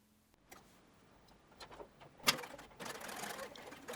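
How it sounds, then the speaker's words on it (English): A home sewing machine stitches around a pocket edge of harem pants, between the waist seam and side seam, running in quiet uneven bursts with light ticking and some handling noise. "Machine around the pocket edge, between the waist seam and the side seam."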